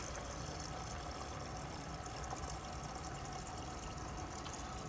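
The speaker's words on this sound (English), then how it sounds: "that's where I'm dumping this cup" Water from a cup poured into a bucket, a steady close splashing wash that runs without a break and with no one talking.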